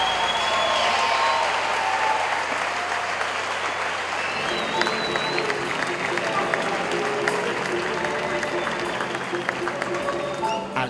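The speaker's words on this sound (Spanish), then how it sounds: "Todo un espectáculo que el público agradeció reiteradas ocasiones con su aplauso" An audience at an international jazz festival in Campeche applauds, sustained, dense clapping that fills the space and holds steady throughout, with a narrator's voice heard over the first part.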